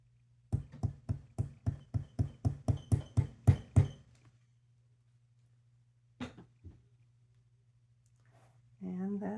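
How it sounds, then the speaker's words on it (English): A nylon hammer gives a wire French hook ear wire a fast run of about fifteen light, close taps, then a couple of isolated knocks after a pause over a low hum, and speech begins at the end. "you can use the nylon hammer."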